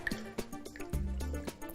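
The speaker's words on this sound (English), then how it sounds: "So I'm going to just dampen a clean cloth in water." A clean cloth is dampened in water while chalk-painting frames, giving faint, close, intermittent drips and soft liquid squishes.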